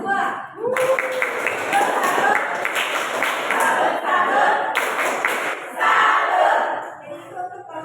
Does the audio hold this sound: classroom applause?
yes